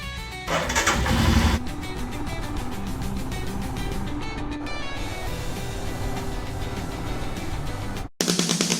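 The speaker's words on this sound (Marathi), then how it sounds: "बाईकला तर पण कोल्ड स्टार्ट देऊया." A motorcycle engine cold-starting on a morning ride: a loud cranking catch in the first second, then a steady, rumbling idle that runs close and continuous until a brief cut near the end.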